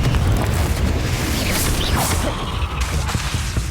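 A Confringo fire spell cast in Hogwarts Legacy on Nintendo Switch gives a loud, booming burst with whooshing blasts over a dense, constant game soundscape.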